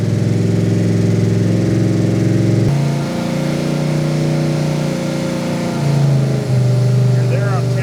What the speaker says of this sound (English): that motor doesn't sound bad